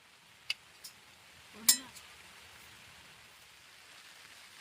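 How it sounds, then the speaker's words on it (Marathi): Quiet, steady rain hiss at a riverbank, with a few distinct drops tapping nearby. "पाऊस पडतोय"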